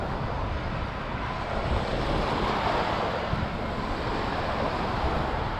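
Waves wash onto the beach at Fos-sur-Mer in a soft, continuous rush of surf, mixed with steady wind buffeting the microphone.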